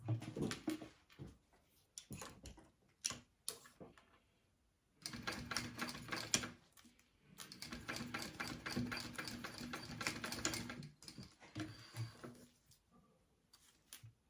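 A sewing machine top stitching a zipper onto a wallet, running in quiet bursts of rapid ticking stitches separated by pauses, faint and close, with no talk.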